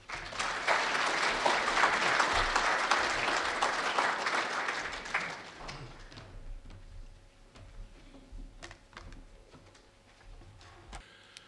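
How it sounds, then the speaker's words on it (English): An audience at a local history night bursts into applause for a speaker, dense and fairly loud clapping for about five seconds, then thinning to a few scattered claps and quiet room noise. "Thank you very much for your applause."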